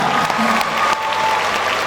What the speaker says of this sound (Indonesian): Tepuk tangan semuanya teman-teman.